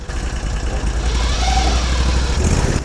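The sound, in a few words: Argo 8x8 CVT disengaging, engine idling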